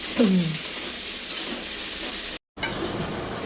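Chicken pieces roast loudly in a pan for a Kerala-style chicken perattu, with a steady close sizzle and stirring scrapes; the sound cuts out for a moment near the end, then the sizzle resumes.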